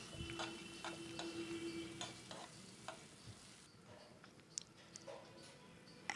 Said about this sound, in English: we will add a cup of boiled green peas